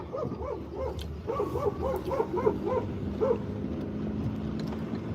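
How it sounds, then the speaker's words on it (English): The neighbour's dog barks in a quick run of short, yappy barks from a moderate distance over low background hum, then falls quiet after a last bark. "that dog, the neighbor's dog, I'm probably going to have to educate it."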